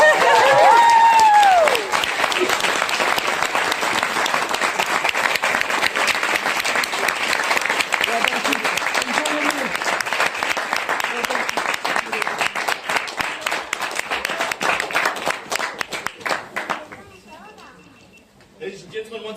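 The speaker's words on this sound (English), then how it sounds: "Round of applause." A large audience claps after a Maori cultural performance at a village in Rotorua, New Zealand, with loud dense applause that holds steady for over fifteen seconds before thinning out and fading. A voice speaks briefly over the clapping.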